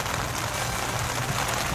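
Rain falls on a jetty during a fishing trip for black bream, a dense, steady hiss of drops close by, with no talk.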